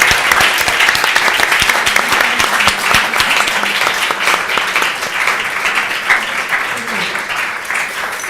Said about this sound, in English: please welcome everybody with a warm round of applause.